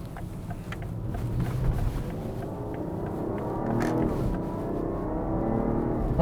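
A BMW G30 540i sedan switched into sport mode on a twisty road, its engine droning steadily and building in pitch as it accelerates, heard from inside the car with no talking.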